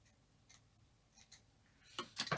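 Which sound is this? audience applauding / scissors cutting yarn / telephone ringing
scissors cutting yarn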